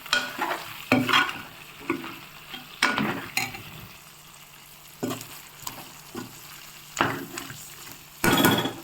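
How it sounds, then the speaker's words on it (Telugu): Andhra-style chicken curry stirred in a pot over a low flame, with repeated scraping strokes of a spoon against the pan and a soft sizzle between them; no talking. "సిమ్లో ఒకసారి మళ్ళీ తిప్పుకుందాం"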